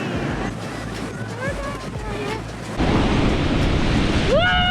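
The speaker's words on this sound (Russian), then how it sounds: "И каждый вечер ходили на пляж, чтобы надышаться океаном" Ocean waves rolling onto a beach in Bali, a broad continuous wash of surf with wind buffeting the microphone. Voices murmur beneath it, and the noise grows fuller and louder partway through.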